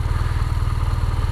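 A BMW R nineT motorcycle with an 1170cc engine runs at a steady, loud, close idle, giving a throbbing, even mechanical rumble with no voices over it.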